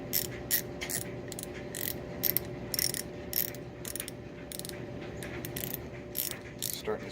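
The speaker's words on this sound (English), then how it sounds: "And let's get a ratchet. Here we go. Run it down." A hand ratchet drives a 6mm bolt down into a threaded hole, producing quick bursts of close, crisp clicking in an irregular rhythm over a low steady hum.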